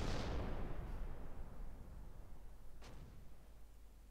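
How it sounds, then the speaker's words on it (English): Artillery rounds hitting in the Close Combat video game: a heavy rumbling blast at the start fading into a low roar, with a fainter distant impact near the end. "Rounds start hitting."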